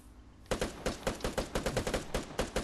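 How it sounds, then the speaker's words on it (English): Gunfire in the video game Vigor comes as a rapid burst of about twenty sharp, evenly spaced shots. It starts after a brief quiet moment and sounds moderately close, with no talk over it. "Oh, he's shooting at him."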